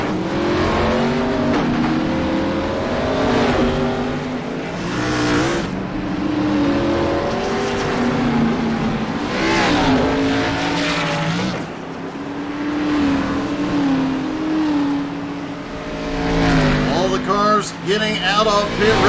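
Race cars idling and starting to roll off the grid toward pit road at a Nowski Judgement Day series race, a dense, continuous engine drone with rising revs, loud and close throughout, with some talk mixed in.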